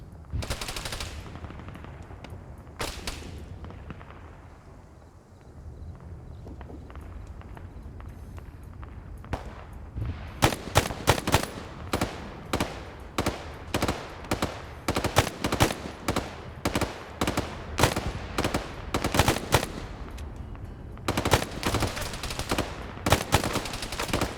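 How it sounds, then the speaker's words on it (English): Suppressive gunfire in a PvP war video game set in the Falklands: sustained bursts of automatic fire, rapid and rhythmic, with single shots and distant shooting mixed in and scattered footsteps underneath. "Now he's got suppressive fire going on him."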